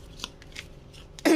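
Soft papery slides and flicks of tarot cards being spread across a table, a few light brushes ending in a louder shuffle.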